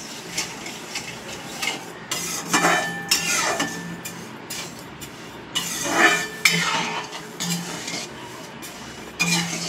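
Raw mango morabba being stirred in a pan with a little water over low gas, a spoon scraping and clinking against the metal in intermittent strokes, close by and moderately loud, with faint background sounds.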